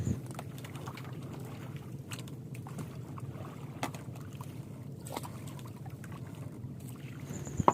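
A wooden fishing boat being paddled out to sea off Bicol, with soft repeated paddle splashes and water trickling against the hull over a low, steady outdoor rumble, no talking.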